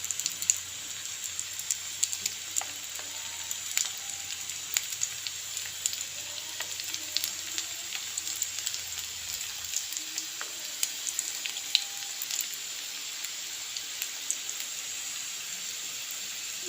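Samosa rolls fry in hot oil with a steady, bright sizzle and scattered pops and crackles, close and continuous with no voices.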